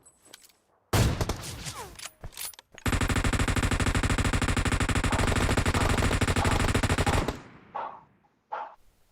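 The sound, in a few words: AWM sniper rifle gunfire in PUBG Mobile video game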